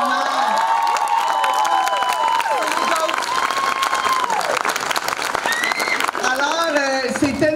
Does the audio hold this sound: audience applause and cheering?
yes